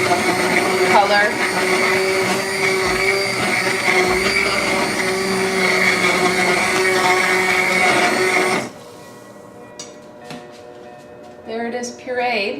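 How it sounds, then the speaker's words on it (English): A blender purees beet soup with a loud, steady whir for several seconds, then cuts off, leaving quieter clatter and brief sounds afterward. "So we will puree the beet soup."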